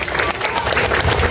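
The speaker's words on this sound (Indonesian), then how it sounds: "Tepuk tangan buat Alif." A short burst of dense audience clapping for a child reciter at an Isra Miraj religious gathering, a steady crowd applause with no break.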